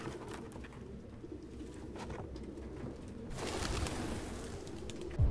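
Pigeons coo steadily in a dilapidated room in the Detroit: Become Human video game, low repeated calls heard alone over a hushed ambient background, with a slightly louder stretch near the end.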